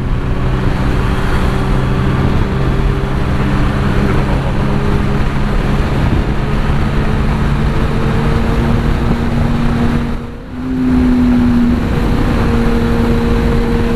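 A Kawasaki ZX-10R with a full-system AR exhaust holds a loud, steady engine drone while riding on the road, its tone rising briefly near the end after a short dip.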